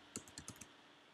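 Quick typing on a computer keyboard while entering a word for a chocolate cupcake search, a short burst of about five close, faint key clicks followed by quiet.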